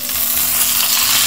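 Filling frying in olive oil in a pan, a loud, close, continuous sizzle with light crackling and stirring sounds throughout, no talking.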